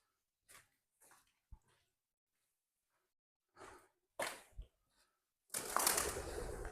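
A few scattered pigeon coos and soft flutters in a quiet space at a wine cooperative, ending in a louder rush of noise.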